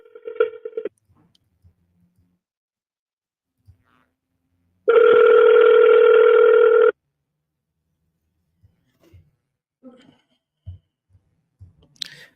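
A single outgoing phone ring tone sounds for about two seconds, steady and loud, in near-silence with faint clicks before and after, and nobody picks up.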